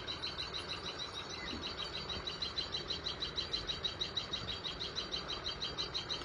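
Tailorbirds call outdoors with a rapid, regular string of high, sharp chirps repeating at an even pulse, moderately distant and clear over a quiet background, with no voices.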